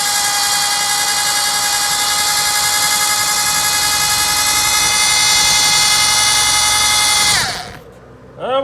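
Gas burner roaring steadily and loudly under a pot of deer and pig scrapple, a constant rushing hiss that cuts off abruptly near the end, leaving quiet background.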